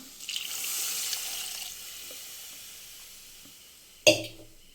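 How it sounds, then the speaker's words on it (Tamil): A burst of hissing as water is poured into a hot pan of frying masala vegetables, fading to a softer bubbling simmer, ending with a sharp metallic clank nearby. "இப்போ இதில் தண்ணி ஊற்றிக்கலாம் கொஞ்சம்"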